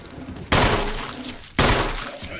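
Two loud gunshots in the Resident Evil video game, about a second apart, each a sharp close blast that fades slowly, with no speech.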